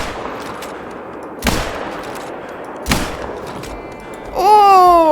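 Two sharp rifle shots ring out a second or so apart while hunting fallow deer in the game Call of the Wild, each loud and abrupt against quiet outdoor ambience, followed by a rising animal call or whistle.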